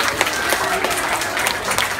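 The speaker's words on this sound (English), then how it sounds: "A big round of applause for Oscar." A carnival crowd at a walkathon performance claps loudly for an animal act, a dense, steady wash of applause with sharp individual claps popping through for the full two seconds.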